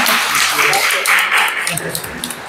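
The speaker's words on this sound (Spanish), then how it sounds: "creo que tal vez un aplauso." A small audience at a community gathering about land and soil defense in San Luis Tlaxialtemalco claps for a couple of seconds, a scattered, fairly close patter that thins out toward the end, with voices talking over it.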